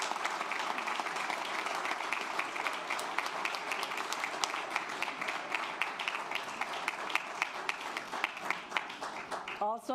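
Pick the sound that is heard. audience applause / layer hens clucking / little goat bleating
audience applause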